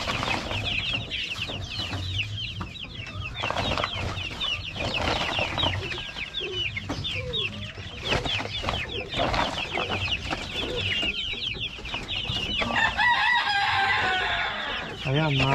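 A flock of pet chickens clucking and squawking close by, busy overlapping calls throughout, with a rooster crowing and a burst of excited cackling near the end.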